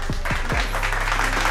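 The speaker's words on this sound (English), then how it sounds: "I do just want to give myself a round of applause for that" A round of applause plays loudly and densely after a few quick descending swoops at the start.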